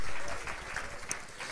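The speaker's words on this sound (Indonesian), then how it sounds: "Yang ngerti tepuk tangannya meriah buat Tuhan kita" Congregation clapping enthusiastically during a Sunday church service, a steady wash of applause heard from a distance at moderate level, with no voices on top.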